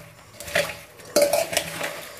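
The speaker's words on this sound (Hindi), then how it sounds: "इसे मिलाते जाएंगे ताकि हमारा जो भी मसाला है काफ़ी अच्छी तरह से मिक्स हो जाए।" A spoon stirs spices into mango pickle in a metal pot, giving a few close clinks and scraping swirls against the vessel in two or three short bursts, with no speech.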